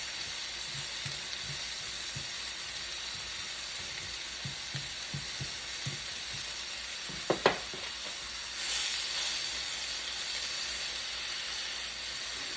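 Frozen chicken sizzles steadily in a pan on a double burner grill, a soft continuous hiss with a few light clicks and one brief sharp tap partway through, heard alone without talk.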